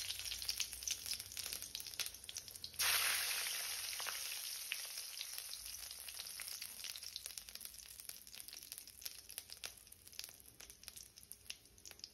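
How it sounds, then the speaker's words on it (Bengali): Bay leaf, whole cumin, dried chili and onion hit hot oil for a tempering while duck curry is being made, bursting into a loud sudden sizzle that slowly settles into steady crackling frying. "এবার দিয়ে দেব ফোড়ন, এখানে তেজপাতা, গোটা জিরে আর শুকনো লঙ্কা আর পেঁয়াজ"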